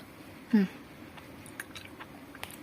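Gummy jelly candy bought from a Thai 7-Eleven being bitten and chewed close up: one distinct squishy bite followed by faint, sparse chewing sounds in a quiet room.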